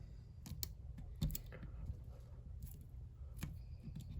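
Lock pick working inside a 22mm bike lock, a handful of tiny sharp metallic clicks and ticks scattered over faint background, close and quiet with no talk.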